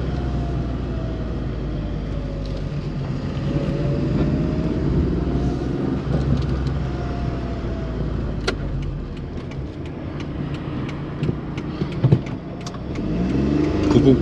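Kei car engine, a Works model, pulling in first gear while driving, a steady mid-pitched drone with slowly rising engine tone and road rumble throughout, a few light clicks and knocks toward the end.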